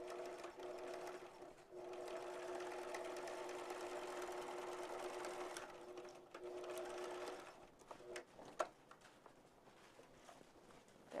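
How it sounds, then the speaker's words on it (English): A sewing machine stitches fabric upward from the fold in a steady, quiet whirring run for several seconds, then slows and stops, followed by a few soft clicks and handling sounds. "I'm going to start down here at the fold and sew up."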